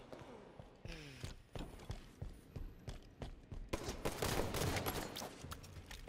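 Rapid gunfire in the video game Halo 5 Guardians, in a SWAT match, cracks in repeated bursts over game music and ambience and builds to a dense, loud barrage toward the end, with no talk heard.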